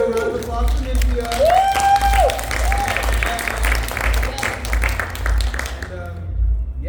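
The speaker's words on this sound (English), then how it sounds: "Can we get a round of applause for Nymphia?" A fan convention panel audience claps steadily, the applause mixed with scattered cheers and a voice rising over the crowd.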